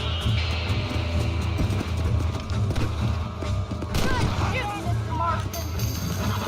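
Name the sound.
horse galloping and jumping in video game Red Dead Redemption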